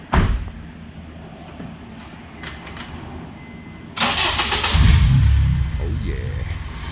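An Acura TSX 2.4-liter K24 engine swapped into a Honda Civic Si cranks briefly, then catches and settles into a loud, close idle, with a rev swell after start.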